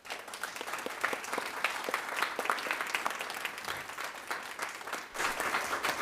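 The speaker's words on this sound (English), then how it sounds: "We started the applause." Applause from attendees at a school board of education meeting, steady sustained clapping from a modest crowd heard at moderate distance, continuing unbroken throughout.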